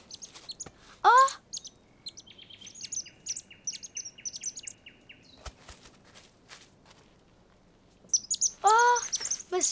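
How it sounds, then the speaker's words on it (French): Cartoon baby bird chirping in high, quick bursts, a loud run near the start and another near the end, with softer twittering and light taps in between and no talk. "Mais c'est un bébé oiseau."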